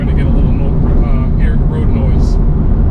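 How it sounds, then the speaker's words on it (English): Road noise fills the cabin of a 2008 Porsche 987 Boxster S convertible with the top up, a loud, steady low rumble with wind hiss and someone talking over it. "this is not the quietest car with the top up, but I think anybody would assume that in a convertible you're going to get a little road noise"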